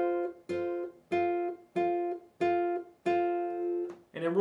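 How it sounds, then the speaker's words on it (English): Slow guitar chord from the intro of a song, three notes plucked together with the fretting hand holding the shape, struck seven times at an even, unhurried pace, each ringing briefly before the next, close and clear with no voices. "You'll just hold the chord with your fretting hand and then pluck the 3 notes at the same time."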